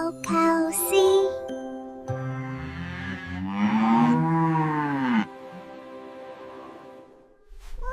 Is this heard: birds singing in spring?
no